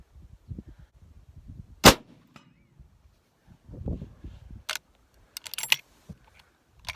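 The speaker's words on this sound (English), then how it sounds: "are steel targets, so you should be able to hear them ring" Three sharp, well-spaced rifle cracks from a Winchester Model 94 lever-action fired at steel target plates around 200 yards, with quiet shuffling and handling noise in between.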